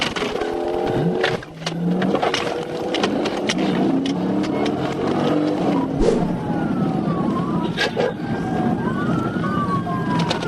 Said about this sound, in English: They activated their sirens and attempted to initiate a traffic stop.